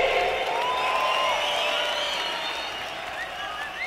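Audience applause at a live rock concert, a broad wash of crowd clapping with faint cheering that slowly fades, under a few tonal whistles or feedback sweeps.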